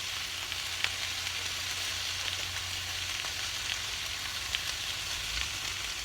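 Chop suey sizzles steadily in a pan outdoors, a continuous frying hiss with occasional soft scrapes and taps as it is stirred, no voices over it.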